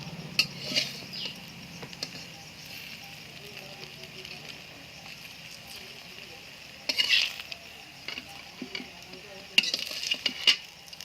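Mixed leafy greens fry in a wok, a soft sizzle punctuated by scraping stirs and metallic clinks of a spatula against the pan, with occasional louder bursts as ingredients are tossed.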